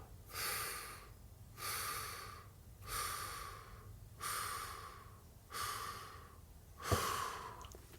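Slow breaths rise and fall in a breathing exercise, about six airy inhale-exhale swells at an even pace, close and soft, with no talking.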